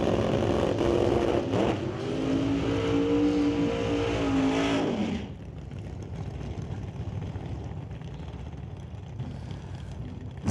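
Doorslammer drag race cars, including a 1948 Austin, launch at a drag strip with a loud, roaring, revving engine blast that holds for several seconds, then drops off into a steadier, more distant engine drone.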